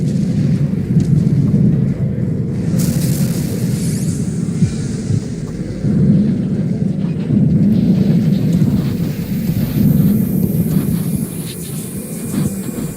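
A car bomb detonation in Hitman: Contracts, heard as heavy, deep rolling rumbles that swell loudly at the start and again midway, then settle into a sustained low roar.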